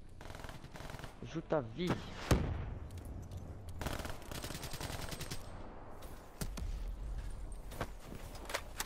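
Sporadic gunfire from an armored turret in an online shooter game, with sharp isolated shots and short bursts over busy game noise, while a voice speaks briefly.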